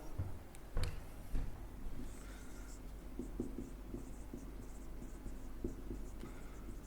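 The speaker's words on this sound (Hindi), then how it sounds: "यहां पर मैं लिख रहा हूं" Chalk or marker scratching across a board as a teacher writes during a chemistry lesson, with a few sharper taps early on and then a steady faint scribbling under light room noise.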